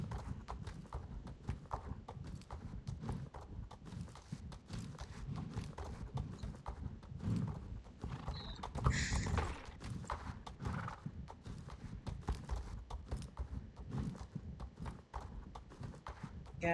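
Horse hooves clip-clopping steadily in the video game Star Stable Online, several horses trotting with a brief neigh midway, over a soft game background.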